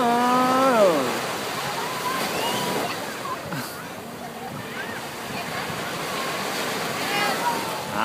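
Sea waves at Cha-am beach wash and splash in a steady, close surf roar, with people talking and exclaiming over the water throughout.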